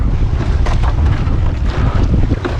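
Strong crosswind buffets the microphone with a continuous low roar during a rowing race, and water rushes in the background.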